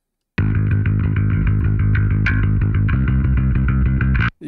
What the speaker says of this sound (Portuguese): Esse é o som do baixo.